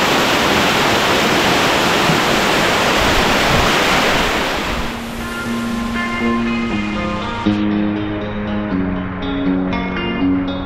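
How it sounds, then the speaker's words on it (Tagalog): A waterfall in Catanduanes spills into an infinity pool with a loud, steady rush of falling water. Partway through, music rises over it while the water carries on underneath. "Tapos meron siyang falls na dito nanggagaling yung tubig."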